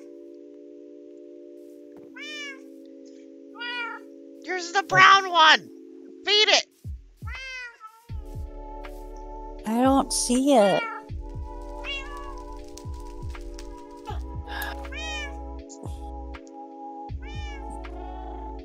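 Minecraft cat meowing repeatedly in short rising calls over steady game background hum, while people talk over it throughout.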